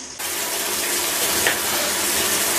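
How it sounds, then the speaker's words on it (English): A steady, splashing gush of cold liquid banana mixture poured over a person, nonstop for a couple of seconds, close and fairly loud. "So my mom's gonna pour this all over me."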